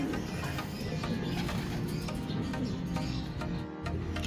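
Racing pigeons coo during a training session in Cavite on a very hot day, soft repeated calls set in dense, noisy background activity with no talking.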